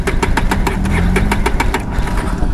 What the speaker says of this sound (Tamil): வண்டி ஸ்டார்ட் ஆகலை, கேட்குதுங்களா இன்ஜின் சவுண்டு